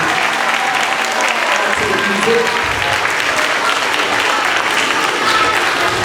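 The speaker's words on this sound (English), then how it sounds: "So if we get a round of applause again for our chamber choir" A school concert audience gives a chamber choir a sustained round of applause, dense and loud clapping that continues steadily from start to finish with a faint murmur beneath.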